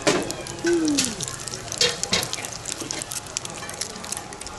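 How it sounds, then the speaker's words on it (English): An egg fries in a pool of oil in Indonesia, giving a steady, close hiss and crackle with popping spatters throughout and a faint voice briefly underneath. "I've never seen an egg fried in so much oil before."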